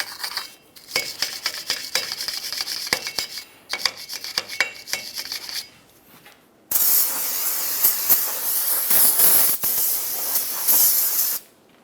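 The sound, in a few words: aerosol parts cleaner spraying on brake parts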